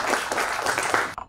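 An audience at a tech talk event claps for a speaker being called up on stage, a brief burst of close, steady applause that stops abruptly.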